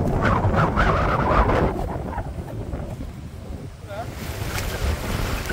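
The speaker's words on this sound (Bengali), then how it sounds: "হাওয়া" Steady wind rushes and buffets the microphone out on the open sea from a fishing boat, with wave wash underneath; the gusts sound strongest early on and ease somewhat later, and no voices are heard.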